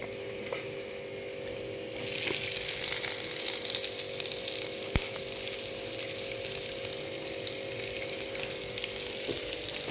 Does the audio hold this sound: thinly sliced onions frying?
yes